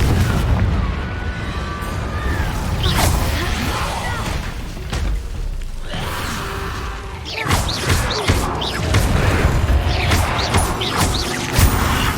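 A Confringo fire spell exploding in the Hogwarts Legacy video game on PC, giving loud, dense booming blasts and crashing rumble that fill the whole stretch with little pause.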